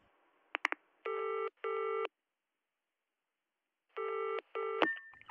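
A telephone line with a few quick dial clicks, then clear, steady double-burst ringing tones repeating twice with a pause between, close and alone before a call connects.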